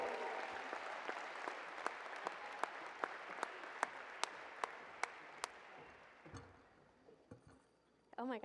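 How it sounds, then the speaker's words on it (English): A crowd at Arizona State University's Spring 2025 Sun Devil Athletics stole ceremony applauds the graduating class, a steady wash of clapping with a few loud, sharp individual claps standing out, then tapering off into brief voices and a cheer. "a strong round of applause for the Spring 2025 Sun Devil graduating class of Arizona State University"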